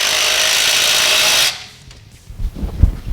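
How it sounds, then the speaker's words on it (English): A loud, close power tool whirs steadily for about a second and a half, tightening an exhaust clamp on a loop delete Y-pipe under a 2012-2018 Jeep Wrangler JK, then stops, followed by a few dull knocks and rubbing handling noises. "Then tighten the clamp on top of the loop delete."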